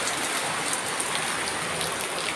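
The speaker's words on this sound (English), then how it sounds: "Nice little bit of rain." Light rain falls in a steady, even hiss with scattered soft patter of drops, continuous and fairly close, no voices.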